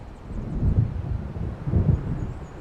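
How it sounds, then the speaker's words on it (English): Thunder from an approaching storm in Alan Wake Remastered rolls in as two deep, muffled rumbles that swell and fade, with no other sounds. "It seems there's a storm coming."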